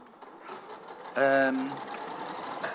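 Sewing machine stitching the tail onto a fabric creature, a sudden burst of loud whirring stitches that then trails off, with people talking over and around it.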